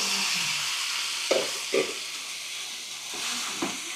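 Chicken meets a pan of fried onions, ginger and garlic with a steady hiss, as a few stirring scrapes and clunks cut through the close sizzle.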